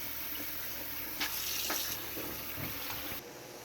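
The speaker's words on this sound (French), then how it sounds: "So guys, I'm done chopping my veggies. As usual, I have to wash it well, okay?" A kitchen tap runs water over freshly chopped vegetables in a sink as they are washed. The steady close splashing rush shifts in tone as the food is moved under the stream, then stops near the end.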